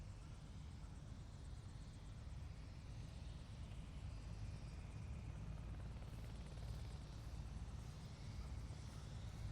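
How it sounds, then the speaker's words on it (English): A helicopter flies steadily, its rotor and engine making a continuous low droning rumble at moderate distance throughout, with no voices. "All right, everyone in the helicopter, we're leaving."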